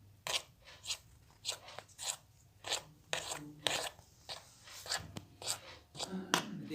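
Thick homemade ajwa date paste being mixed, giving repeated rasping, scraping strokes in a steady rhythm, close and moderately loud, with no talking.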